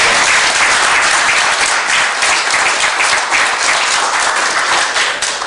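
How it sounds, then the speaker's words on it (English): Loud, sustained audience applause fills the whole stretch, a dense steady wash of many hands clapping with no voices over it. "Please, a round of applause."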